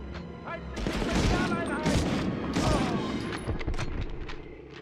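Rapid bursts of submachine gun fire and booming impacts in the video game Medal of Honor, involving an MP40 SMG, loud dense firing with explosive thumps throughout.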